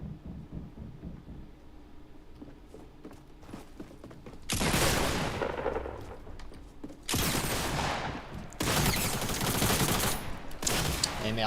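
Rapid bursts of pistol fire from dual Akimbo pistols in Fortnite, loud close volleys in three long clusters after a quieter stretch of footsteps and mechanical clicks.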